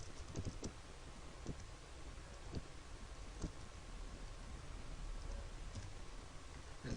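Quiet typing on a computer keyboard: a handful of irregular key clicks spaced across several seconds, faint and close, over a low steady hiss, with no voices.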